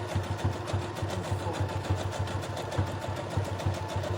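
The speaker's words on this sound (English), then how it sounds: "this is the part where I sew" A sewing machine stitches Christmas pajama pants with a steady rapid low mechanical rhythm, running continuously and fairly loud close by.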